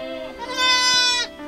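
A single loud, quavering lamb bleat rises and holds for about a second, close by, then fades.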